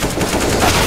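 Rapid automatic gunfire from the game CS:GO, a dense continuous burst of loud shots filling the short moment with no talk.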